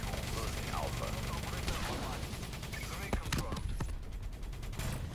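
Distant, continuous gunfire crackles through a Call of Duty: Black Ops 3 match, with scattered sharper shots standing out near the end and players talking over the steady background of battle.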